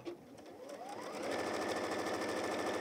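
A sewing machine stitches a quarter-inch seam on a Tilda goose toy, speeding up from a quiet start into a steady, close, continuous whirr.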